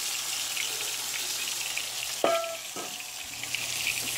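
Green beans dropped into a hot pan with gravy steaks set off a steady frying sizzle, broken by a couple of sharp splashy hisses as they hit the fat.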